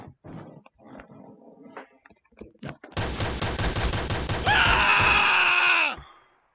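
Rapid bursts of gunfire in a shooter video game, a loud sustained volley of shots with a ringing, whining tail near the end, following scattered quieter clicks and thumps.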